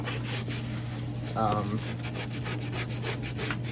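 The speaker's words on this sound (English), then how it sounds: "I'm gonna scrub it in hopes that really gets a lot of the crud out" A brush scrubs a filthy car carpet, a steady, close rubbing rasp in quick strokes over a constant low hum, with a brief voice-like sound partway through.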